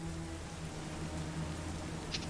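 Torrential rain pours steadily as an ambient sound effect for a tabletop roleplaying game, a constant close hiss with a low rumble underneath and no talking.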